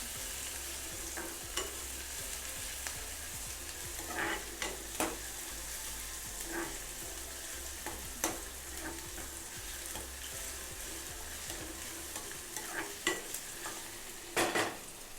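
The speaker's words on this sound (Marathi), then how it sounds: "कांदा आपला व्यवस्थित परतून झालेला आहे." Two finely chopped medium onions sauté in a pan, giving a continuous soft sizzle with occasional scrapes and clicks of a stirring spoon, close up and without any voices.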